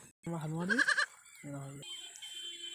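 Goats bleat in a field in short wavering calls, first a few close, loud bleats, then a softer one after a brief pause, over faint background noise.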